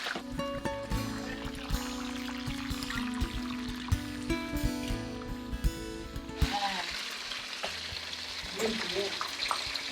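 Homemade spring rolls frying in hot oil give a steady crackling sizzle throughout, heard close, under kitchen hum and occasional clatter while people talk.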